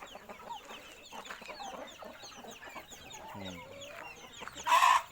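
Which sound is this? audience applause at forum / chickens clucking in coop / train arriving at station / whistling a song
chickens clucking in coop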